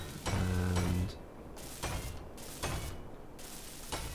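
Block welding in the game Space Engineers, a loud mechanical grinding burst followed by repeated rhythmic welding pulses that surge and fade in quick succession, no voice over it.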